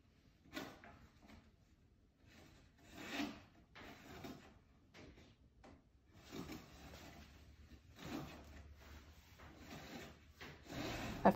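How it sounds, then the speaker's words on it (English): Cord rushing and rubbing past wooden frame elements during a Danish cord figure 8 weave, with soft irregular swishes and scrapes, quiet and close, with no talking. "I found myself really enjoying hearing the rushing sound that the cord made as it breezed past the wood elements."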